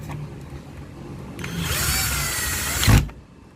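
A power driver tightens the set screws on a heavy-duty two-pin generator extension cord plug, a close, loud whirring burst of about a second and a half that ends in a sharp clunk against a quiet room background.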